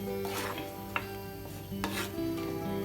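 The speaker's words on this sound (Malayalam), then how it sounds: "അതിനുശേഷം നമുക്കിതൊന്ന് ഇളക്കി കൊടുക്കാം" Pumpkin and bean erissery curry with coconut and cumin being stirred in a pot, with a soft continuous scraping and bubbling texture and a few brief utensil knocks against the pan, close and steady with no talk.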